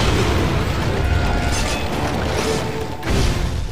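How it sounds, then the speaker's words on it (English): Spread gun lance shots boom and burst repeatedly in Monster Hunter Freedom Unite, dense, loud explosive blasts layered over game mechanisms with a brief lull before another burst. "Mainly I'm just focusing on gunning because, why not? Showing off the spread gun lance."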